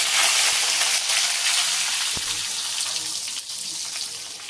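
Green chillies dropped into hot oil already crackling with tempered mustard and cumin seeds give a steady, bright frying hiss that holds through the moment, with faint pops scattered over it and no talking.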